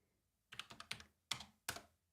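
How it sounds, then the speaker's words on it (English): Keystrokes on a computer keyboard as a search term is typed, heard as a quick run of close, crisp clicks followed by two louder separate taps, with no talking. "I'm going to use my keyboard"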